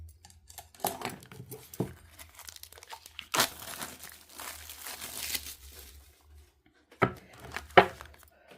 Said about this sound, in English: let me just take the plastic covering off.